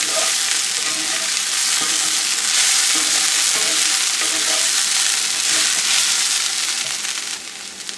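Cauliflower rice with okra, dal, parsley and oregano sizzling in a pan as a spoon stirs it, with steady frying hiss and repeated scraping strokes throughout, close and continuous, no talking.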